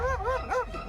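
An estate's attack dog barks and yips excitedly in quick, rising and falling bursts, loud and close, with no talking.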